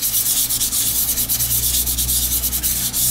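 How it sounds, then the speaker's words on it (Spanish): Dried papier-mâché relief being sanded with fine 400-grit sandpaper, a steady loud rasping rub with quick repeated back-and-forth strokes, close and continuous with no talking. "con una lija fina, que es lija 400, voy a proceder a lijar de esta forma"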